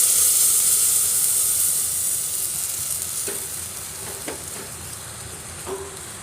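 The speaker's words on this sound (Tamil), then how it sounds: "இப்போ வேக வச்ச கொள்ளு இதுக்குள்ள ஊற்றிடலாம்." Boiled horse gram is poured into tomatoes frying in a pan, giving a loud steady sizzle and hiss with occasional stirring scrapes, close up and without voices.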